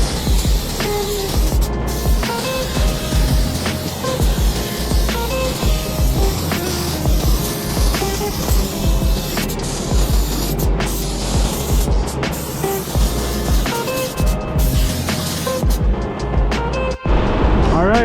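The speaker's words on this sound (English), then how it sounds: "this is the DV1 spray right here. This is just a quick overview of how it sprays" A DeVilbiss DV1 spray gun sprays sealer on a truck in a shop, a loud continuous airy hiss broken by short pauses between passes, with faint background noise and no talking.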